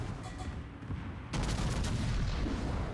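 A battleship's main guns fire a salvo in World of Warships: a sudden heavy boom cuts in partway through and rolls on as a loud, sustained, rumbling roar over a low background.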